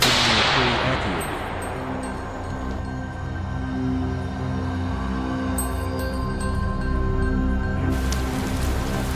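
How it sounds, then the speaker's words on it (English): Steady rain falling on a soaking wet dirt road with puddles, a dense continuous hiss of drops that stays even throughout, with a few faint clinks in the background. "The rain continued to fall steadily"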